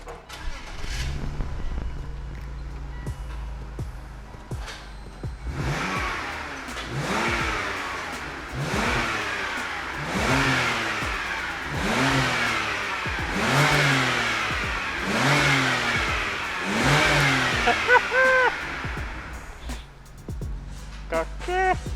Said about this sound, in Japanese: ちょっとエンジンかけてみる？